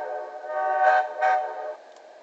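Locomotive horn of a GAURC-8 engine from the Great American Underground Railway Company in the train simulator Trainz06: a steady, harmonically rich tone sounding alone for about two seconds, swelling in two short pulses before fading slightly.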